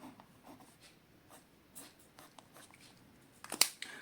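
A Platinum Preppy fountain pen with a Japanese medium nib scratches faintly across paper in short, soft strokes, with one sharper, louder scrape near the end.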